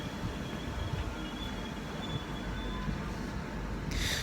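Train passing through a station on the King's Cross line, a steady loud rumble of wheels and carriages with a faint high squeal, close by and continuous, no voices.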